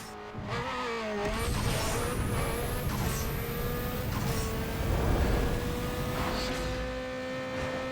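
A Lexus IS300 with a 3.0L inline-six launches in a drag race in Need for Speed Underground 2, the engine roaring and revving hard with tire squeal and rising pitch through gear shifts, loud and continuous.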